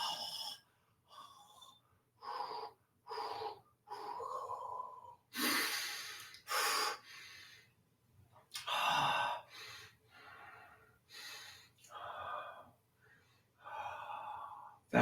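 Several people breathe in and out while exercising their jaws, a close, irregular series of short, airy inhales and exhales, some sharp and gasping, with quiet gaps between them.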